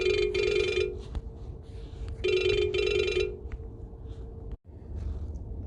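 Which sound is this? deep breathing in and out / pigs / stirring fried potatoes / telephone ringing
telephone ringing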